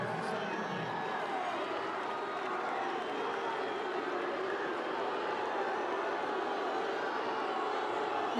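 Spectators at a high school boys state soccer championship in Nebraska during a penalty shootout, a dense, steady roar of crowd noise filling the whole span, with a commentator's voice under it.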